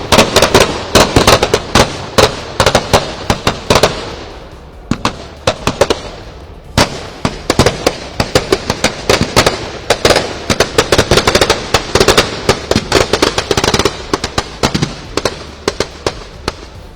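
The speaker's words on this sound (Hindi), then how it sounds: "इन्हीं तेज धमाकों के साथ मिलने के बाद अब कुंभकर्ण का जो प्रतीक पुतला बनाया गया है वो जल गया है" Loud firecrackers burst as a Dussehra effigy of Kumbhkaran burns outdoors in Delhi, dense rapid cracks and bangs crackling in irregular volleys with brief lulls, close and dominant throughout.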